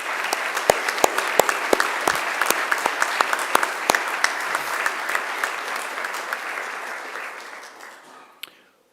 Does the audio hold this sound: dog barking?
no